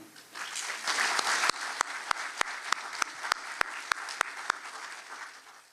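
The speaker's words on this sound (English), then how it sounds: "So can we give a big round of applause for Long Nguyen and Kimmy Duong?" Audience applause at a scholarship award ceremony, a dense wash of clapping that builds and holds steady, with a few sharp isolated claps standing out as it continues.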